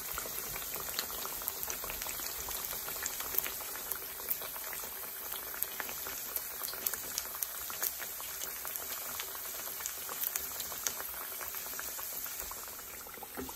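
Caramel apple empanadas fry in hot oil, a steady, bubbling hiss with fine crackles and small pops throughout, close and even, with no talking.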